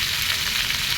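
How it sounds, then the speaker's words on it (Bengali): Fresh chopped pumpkin greens fry in hot oil tempered with five-spice, giving a steady, loud, close sizzle with no talking. "এবার আমি কেটে রাখা শাকগুলো দিয়ে দেবো।"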